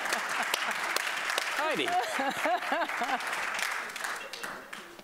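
An audience at a soccer business conference applauds as a CONCACAF guest is introduced, the clapping continuous and fairly close, with a speaker's voice and a few cheers rising over it midway.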